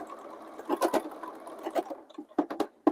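A sewing machine stitches fabric in short bursts, close and moderately loud, with quick mechanical pulses and brief pauses between runs.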